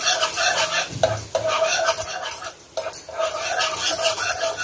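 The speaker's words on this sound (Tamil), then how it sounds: "நான் கொஞ்சம் கொஞ்சமா நான் மில்க் ஆட் பண்ணி நான் கலந்து விடுறேன்" A whisk stirs milk into white sauce in a pan, with a continuous, close, brisk scraping and swishing against the metal and occasional clinks. The mixing runs throughout with no talk.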